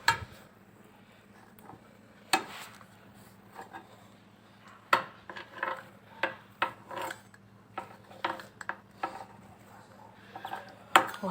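A knife slices rolled-up soft bread dough into small pieces for Syrian flatbread, giving a series of quiet, scattered taps and thuds against a board with small rustles in between, close by and with no talking.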